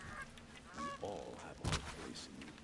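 A video-game turkey lets out a few honking, gobbling calls in short bursts, fairly loud and close. A sharper squawk rises near the end, and no one talks over it.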